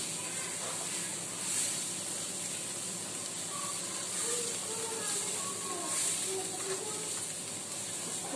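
Spices hitting hot oil in a pan while making aloo chana chaat, a steady broad hiss of sizzling that holds at an even level throughout with faint crackles underneath.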